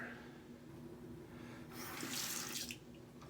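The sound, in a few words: tap water running to add water to shaving lather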